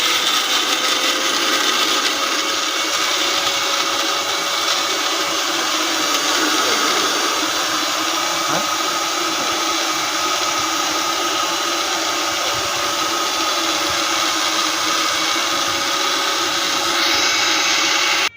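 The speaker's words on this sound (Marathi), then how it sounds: "आता मिक्सर लावलाय इथं मिक्सर आणलाय आणि इथं सर्व मिश्रण आणलंय" A kitchen mixer grinder whirs loudly and steadily, blending a masala mixture for egg curry, a continuous close motor drone running the whole time with no talking.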